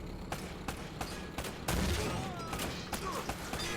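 Gunfire in a firefight in the Uncharted: Drake's Fortune Remastered video game, repeated sharp shots at an irregular rhythm over a steady bed of background noise and game score.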